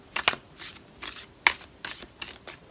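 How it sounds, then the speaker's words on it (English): A deck of tarot cards is shuffled by hand in a series of about six quick riffles, each a short crisp rustling burst, close up in a quiet room. "One last shuffle."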